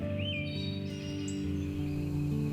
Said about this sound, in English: What you'll find is a smattering of birds.